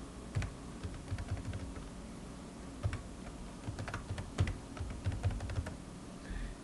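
Rapid key presses on a computer keyboard while a username and password are entered during an Ubuntu install, an uneven run of soft close clicks over a steady background hum, with no talking.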